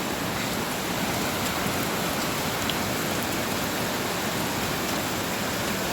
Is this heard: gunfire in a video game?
no